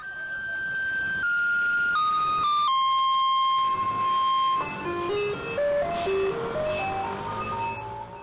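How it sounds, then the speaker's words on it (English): A Taiwanese garbage truck broadcasts Beethoven's Feuerlied as a bright electronic melody in stepped tones, loud and continuous, like a tinkling street jingle from a passing vehicle. "The melodious sound of Beethoven's Feuerlied is used as a signal that the garbage truck is approaching"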